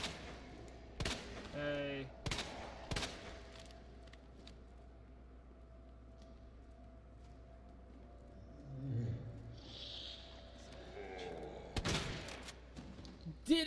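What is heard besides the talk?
shotgun firing at zombies in Resident Evil 2 video game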